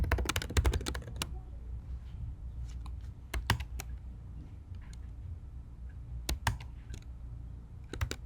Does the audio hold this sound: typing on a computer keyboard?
yes